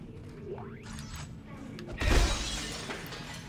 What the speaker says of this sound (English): is this made of sugar glass? Damn sugar glass.